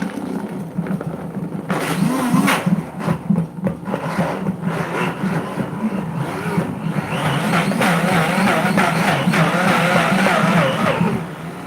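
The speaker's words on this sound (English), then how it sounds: "You kind of have to blend and scrape" A Vitamix blender churning frozen bananas, a loud grinding motor whine with labored, shifting pitch as the thick mixture catches, running continuously up close without speech.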